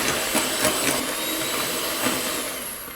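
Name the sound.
kitchen robot mixing cake batter ingredients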